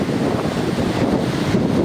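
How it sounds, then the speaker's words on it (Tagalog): Steady roaring gusts of strong wind buffet the microphone without pause on a Boracay beach at high tide, with a faint wash of surf underneath; no one speaks. "So medyo malakas yung hangin ngayon"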